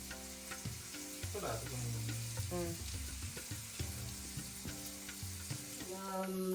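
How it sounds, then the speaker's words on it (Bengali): Fish coated with turmeric and salt sizzles steadily in a pan while being stirred, with scraping and clinking of the spatula over continuous frying noise, close up. "নাড়িয়ে নিয়ে ভালো করে মিশিয়ে দাও হলুদ আর লবণে।"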